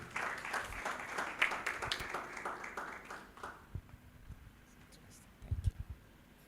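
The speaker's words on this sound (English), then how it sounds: "Please, a big round of applause for him." Scattered audience clapping at a groundbreaking ceremony fades out after a few seconds, followed by quieter room noise and a few thumps and murmurs.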